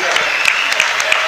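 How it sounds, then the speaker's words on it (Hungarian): At an international boxing gala, the audience applauds after the Berki Ferenc Jr. vs. Krämer Péter bout, a short burst of fairly steady clapping with occasional sharper claps standing out. "Megtapsolja a közönség."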